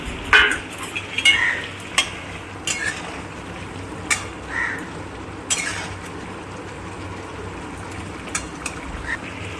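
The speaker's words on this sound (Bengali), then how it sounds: "এবার আমি বড়াগুলো ছেড়ে দেবো।" Raw banana kofta balls are dropped one by one into boiling gravy, giving a few soft plops and spoon clinks against the pot over a low bubbling simmer.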